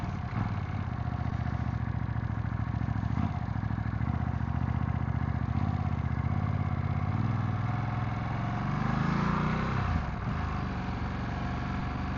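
A 2025 Ducati Streetfighter V2S engine idles with a continuous, moderately loud low rumble and a light mechanical clatter, and a brief swell in the sound near the end.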